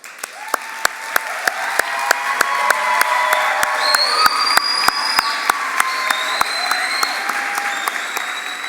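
A crowd at the AARP Minnesota 50 Over 50 celebration gives honorees sustained, enthusiastic applause, with sharp whoops and cheers rising over the clapping as it swells and then slowly eases off.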